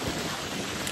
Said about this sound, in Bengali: বৃষ্টি হচ্ছে হালকা,